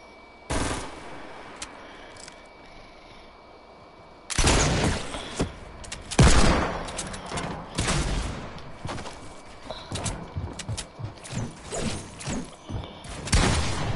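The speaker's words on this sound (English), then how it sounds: "Is that a burst assault rifle?" Burst assault rifle fire in a PS4 shooter game: after a quiet start, loud rapid volleys crackle in clusters, with a heavy thump near the middle and scattered shots continuing to the end, no voices.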